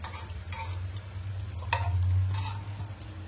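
Small malpua fry in hot oil, a soft continuous sizzle with faint ticking and light stirring clicks, one brief sharper crackle midway, close and quiet with no talk.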